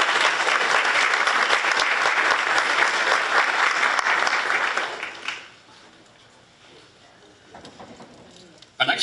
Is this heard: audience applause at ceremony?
yes